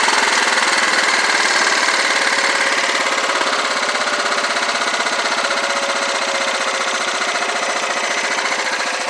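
A small engine, running after basic carburetor work, holds a loud, steady idle with a rapid even chatter, close and unbroken throughout.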